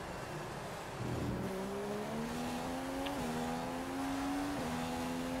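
In the F1 2015 video game, a Formula 1 car drives gently to warm its tyres. The engine drones at moderate volume, and its pitch climbs and drops in steps as it shifts through the gears.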